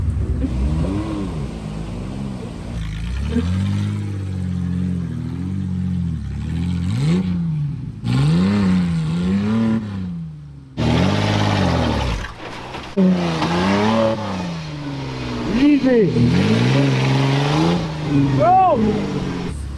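A Trekker off-road recovery vehicle engine revving hard on a rocky trail as it is floored into a rock, with repeated loud rising and falling revs and bursts, and people talking between and over the engine noise.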